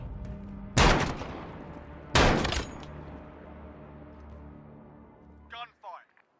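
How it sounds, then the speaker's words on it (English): Two loud, booming video game gunshot blasts from Modern Warfare (2019) with long decaying tails, followed by a short burst of talk near the end. "Gunfire."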